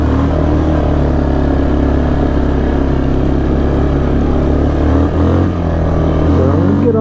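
2006 Yamaha Kodiak 450 ATV, a liquid-cooled, carbureted single-cylinder engine, running at a loud steady idle close by, with a slight shift in pitch near the end.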